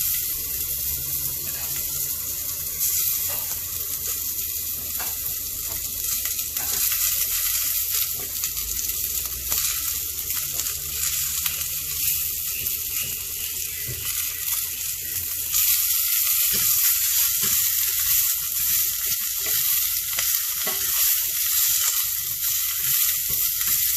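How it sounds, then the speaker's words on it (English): Onion fries in a pan for mutton curry with a loud, continuous close-up sizzle and hiss that holds steady, swelling a little louder partway through, with occasional faint stirring and no talk. "we need to cook the onion till it is soft and slightly brown"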